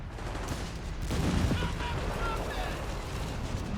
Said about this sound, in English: Black Panther being hit by the anti-tank gun.